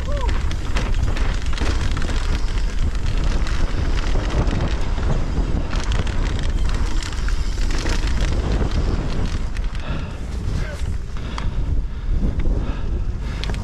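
Heavy wind buffets the microphone during an enduro motorcycle ride on a hard race course, a loud continuous roar and rumble throughout with faint voices mixed in.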